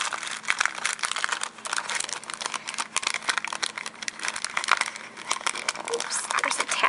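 Plastic wrapping around a packet of small paper recipe cards crinkles and crumples steadily up close, with brief tearing and rustling throughout.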